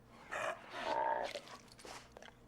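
Dogmeat, the dog companion in the video game Fallout 4, gives a few faint, soft barks or huffs, quiet and somewhat muffled in a low game soundscape, with no talking.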